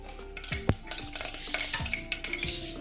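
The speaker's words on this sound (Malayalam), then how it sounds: "വെളിച്ചെണ്ണ ചൂടായി കഴിഞ്ഞാൽ ഇതിലേക്ക് അര ടീസ്പൂൺ കടുകിട്ടൊന്ന് പൊട്ടിച്ചെടുക്കാം" Rapid crackling pops and spatters of mustard seeds bursting in hot coconut oil, with occasional scraping of a spoon against the pan.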